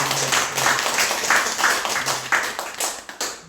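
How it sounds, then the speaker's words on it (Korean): A church congregation claps in welcome during a Sunday worship service, a short burst of scattered applause filling the room. "같이 박수로 환영하고"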